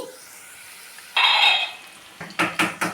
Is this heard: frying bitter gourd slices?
yes